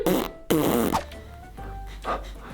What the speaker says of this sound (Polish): puścił bączura, który pachnie zgniłym jajem